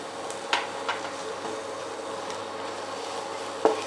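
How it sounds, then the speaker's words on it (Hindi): Spices frying in a pan for soya tikka masala, a faint, quiet sizzle broken by a few sharp clicks of stirring against the pan. "ये सारे मसाले जो मैंने निकाल के रखे थे ना, ये मैं सारे इसमें डाल के अच्छे से भुन रही हूँ"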